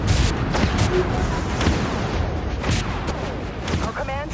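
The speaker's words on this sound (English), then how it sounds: "Broadside plasma gun. Broadside firing." Broadside plasma guns on a spaceship in the Dreadnought game fire in a string of heavy booming blasts, loud and close, with a voice speaking over the barrage.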